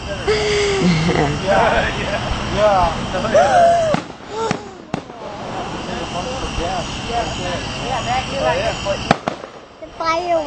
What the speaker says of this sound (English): The fireworks are so pretty